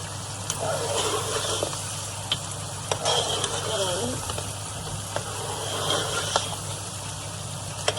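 Lamb and spices frying in a pot for lamb chop pulao, with a steady sizzle and occasional stirring clinks running evenly under a low background hum.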